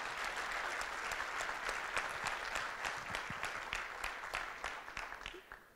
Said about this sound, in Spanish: Un aplauso para ellas.